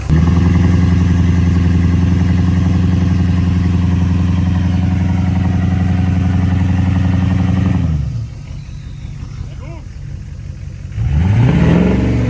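A Ford 6.0 Power Stroke diesel engine idles loudly and steadily up close, its low rumble cutting out abruptly near the end before a brief rising rev returns.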